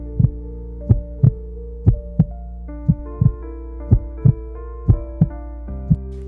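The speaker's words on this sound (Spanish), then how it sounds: "por qué el asesino escucha latidos que nadie más percibe" A steady heartbeat pounds in a lub-dub rhythm over a low sustained drone and soft organ-like tones, about a dozen thumps at an even pace in a dark rendition of a Tell-Tale Heart tale.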